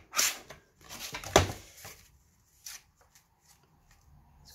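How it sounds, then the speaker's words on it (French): Paper is trimmed for a scrapbook album page with a beach theme: a few short, crisp snipping and rustling bursts close by, separated by quiet gaps. "Je vais couper de l'autre côté."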